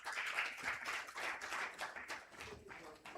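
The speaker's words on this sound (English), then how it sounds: "let's welcome her with a big round of applause" An audience at a UN Women Uganda strategic note launch gives a round of applause: steady, fairly faint, distant clapping that thins toward the end, with no talking over it.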